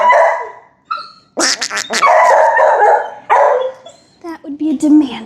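Close, loud demand barking from a dog, several sharp insistent frustrated barks mixed with whiny yips in quick succession.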